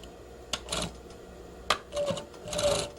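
A sewing machine stitches across a pocket flap in short mechanical bursts, a few quick runs of needle chatter separated by brief pauses.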